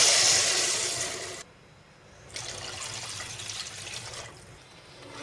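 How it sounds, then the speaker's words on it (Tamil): Water is poured from a cup into a pan for sugar syrup in a home kitchen: a loud splashing pour, a short pause, then a second softer pour that trickles off. "அரை கப்பு சர்க்கரைக்கு நான் வந்து ரெண்டு கப்பு தண்ணி வச்சுக்க போகிறேன்"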